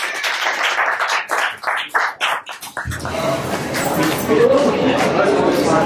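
A voice speaks in short bursts over a microphone, then an audience at a 15th-anniversary office celebration breaks into sustained, dense clapping that lasts to the end.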